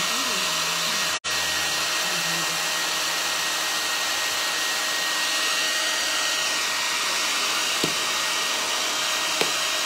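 A hair dryer blows on a waxed paint finish of a provençal patina piece, a close, loud, steady whir holding throughout with a brief cut near the start and no talking.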